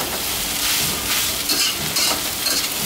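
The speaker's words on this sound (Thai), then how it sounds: "ตามด้วยมะเขือเทศกับผักคะน้านะครับนี่เราก็ผัดใช้เวลานิดนึงนะฮะให้เขาแห้งนิดนึง" Tomatoes and Chinese kale stir-fry in a hot pan with rice for soy sauce egg fried rice, a close, continuous sizzle with scraping stirring strokes and no talking.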